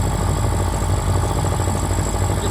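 A skiff's outboard engine runs steadily nearby, smoking and spraying water, a continuous low throbbing rumble with no pauses.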